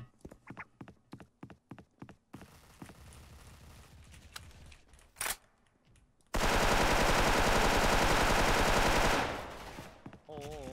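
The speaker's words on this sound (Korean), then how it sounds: "아, 나 총 쐈다 이거." Gunfire in the Special Force first-person shooter, a string of sharp single shots, then a long loud burst of automatic fire lasting about three seconds, with a brief talk-like sound near the end.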